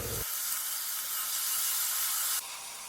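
Onion, tomato, salt and asafoetida sauté in a pan for brinjal chutney, giving a close, steady sizzling hiss that fills the clip before easing off near the end.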